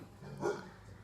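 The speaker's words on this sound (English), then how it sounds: "Sorry, that was my dog Luna." A dog gives a single short bark at a garbage man, faint and somewhat distant, in an otherwise quiet room.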